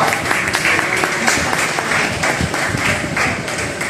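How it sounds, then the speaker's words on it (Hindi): At a literary forum awards event, an audience bursts into full, dense applause, loud and sustained throughout with many hands clapping at once. "आपकी भरपूर तालियों में।"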